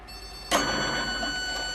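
A Melco EMT16X embroidery machine stitches the tack-down outline on fabric for a baby gown appliqué, a steady mechanical whir with a fine rapid rhythm that grows louder after a sharp start, with no speech.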